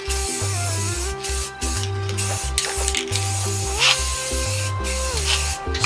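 Short bursts of spray paint hissing from a can, several in a row, while painting a coat on a square-body Chevy truck, partly covered by steady background music.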